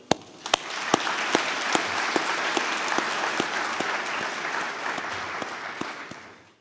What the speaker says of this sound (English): Please join me in a round of applause in appreciation of our MGA Foundation and donors.